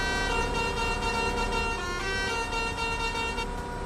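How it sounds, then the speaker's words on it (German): A vehicle horn sounds in the tractor and farming game Farming Simulator 22, one steady, loud blast held for about four seconds with a low engine rumble running underneath. "Wo kommt diese Hupe her?"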